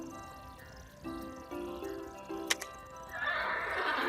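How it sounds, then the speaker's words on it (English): A horse at a stable in a children's storybook app gives a short whinny over soft background music, with a brief bright chime and a rising wash of sound near the end. "At the stables, we met Samson, the horse."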